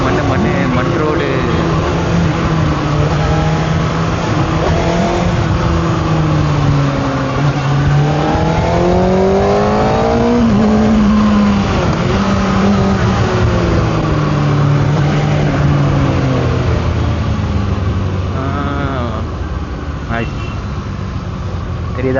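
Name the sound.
Kawasaki ZX6R motorcycle riding on a dirt road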